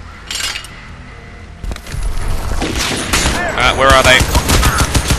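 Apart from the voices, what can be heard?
gunfire from a gun in the video game Crysis 2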